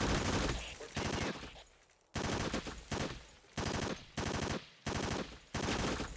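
Light machine gun fire in the video game Ghost Recon, delivered in several loud sustained automatic bursts separated by short pauses, close and dominant with no talking.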